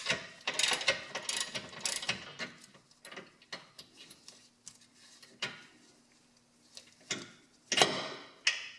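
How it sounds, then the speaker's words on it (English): A bolt being removed from the front control arm of a first-generation Mazda 6, heard as close ratcheting clicks and metallic clatter in uneven bursts, with quieter pauses between them. "Go ahead and remove that bolt and slide the control arm out."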